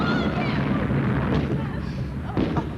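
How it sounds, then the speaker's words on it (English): Fireworks explode offstage during a high school drama club stage play, a loud rumbling burst of booms and crackles filling the whole moment, with a second sharp blast near the end and actors' voices mixed in. "The fireworks! The fireworks!"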